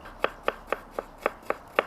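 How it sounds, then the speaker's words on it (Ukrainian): Seven crisp knife strokes thinly slicing cucumbers on a cutting board, evenly spaced in a quick steady rhythm, close up and alone. "Розрізаю навпіл і ось такими тоненькими нарізаю огірочки"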